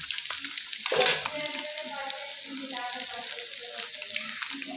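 One spoon of ginger paste fries for egg rice with a steady close sizzle and some stirring, a louder spatter early on, and a low tonal hum running underneath.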